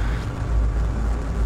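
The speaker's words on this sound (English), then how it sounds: "Oh, I just love that engine." A heavy spaceship engine in the VR game Eve Valkyrie: Warzone gives a steady, deep, rumbling drone that stays loud and even throughout, with no voices over it.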